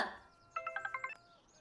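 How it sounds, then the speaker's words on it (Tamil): A phone ringtone plays a quick run of six evenly spaced electronic tones, then stops. A brief sound comes just before it. "ஃபோன். அட்டெண்ட் பண்ணுங்க."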